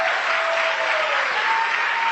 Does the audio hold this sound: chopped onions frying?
no